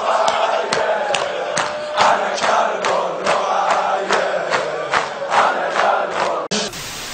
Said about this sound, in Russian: Толпа повторяет за ним.